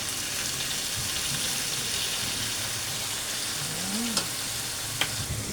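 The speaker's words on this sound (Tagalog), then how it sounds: "Haluin ko lang." Chicken feet adobo sizzling steadily in a pan after soy sauce is added, with a loud continuous frying hiss and a few faint scraping stirs near the end, no voices.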